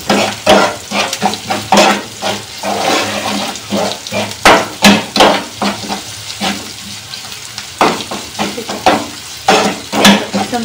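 Spices such as crushed red chili and salt are stirred and fried for desi-style mixed vegetables in a pan. Loud, rapid, rhythmic scraping and clanking rides over a continuous sizzle, close to the listener.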